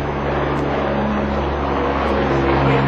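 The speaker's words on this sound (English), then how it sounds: "The helicopter." A helicopter passes overhead in a residential area, a steady loud drone of engine and rotor with low humming tones holding throughout, with no speech.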